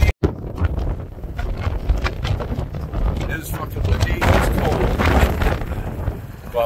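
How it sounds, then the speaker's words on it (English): Strong wind buffets the microphone in loud continuous gusts while snowmobiling in Rangeley, Maine, with a voice talking underneath the roar. "it is fucking windy"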